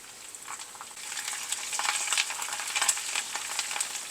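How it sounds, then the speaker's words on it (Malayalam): Curry leaves crackle and sizzle as they drop into hot oil with garlic, spitting with sharp pops over a continuous frying hiss while the mixture is stirred, close and fairly loud. "ആ സമയത്ത് നമുക്കിതിലേക്ക് കറിവേപ്പിലയും കൊണ്ടുവന്നിടാം"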